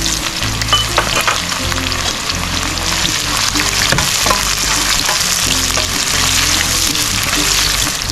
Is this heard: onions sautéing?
yes